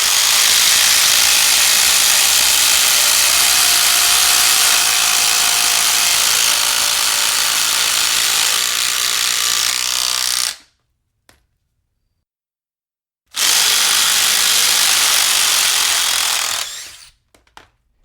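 Cordless Milwaukee and DeWalt power tools run under load in a close, loud, continuous whine and rattle, stopping abruptly for a few seconds of silence before starting again and winding down.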